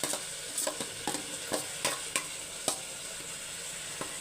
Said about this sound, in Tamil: இப்போ தக்காளியும் வதங்கட்டும்